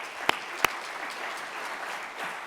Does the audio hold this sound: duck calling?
no